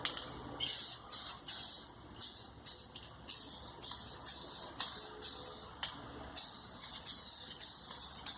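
Rattle-can spray paint applied to a vehicle brush guard: short hissing bursts repeat about every second, each spray pulse close and fairly loud with brief gaps between, and no talking.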